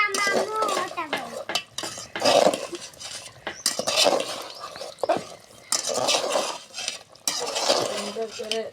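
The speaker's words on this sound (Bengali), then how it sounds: "সুন্দর করে কষে নিই।" A spoon stirs and scrapes a curry of potato, pointed gourd and egg in a pan, with rhythmic clinks and faint sizzling under intermittent talk and a dog barking now and then.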